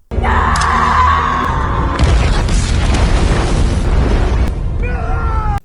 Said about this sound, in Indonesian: Miller pun tewas terkena ledakan